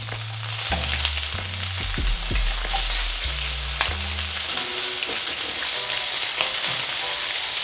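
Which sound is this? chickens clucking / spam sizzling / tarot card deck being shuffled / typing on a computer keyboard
spam sizzling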